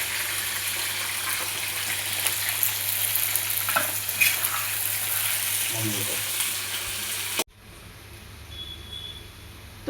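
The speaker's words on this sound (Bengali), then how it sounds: "এবার যাচ্ছে পেঁয়াজ, পেঁয়াজ আর কাঁচামরিচ।" Chopped onion and green chilli sizzle loudly in hot oil in a pan, a dense close crackle that suddenly cuts off near the end and leaves quieter background noise.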